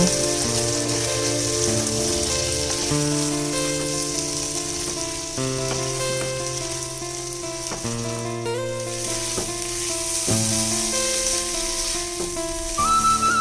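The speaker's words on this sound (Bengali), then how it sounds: "নুন আর হলুদটা দিয়ে চিংড়ি মাছগুলো ভালো করে আমি ভেজে নেব" Prawns seasoned with salt and turmeric fry in a pan with a steady, hissing sizzle that runs for the whole stretch, partly buried under loud, continuous background music.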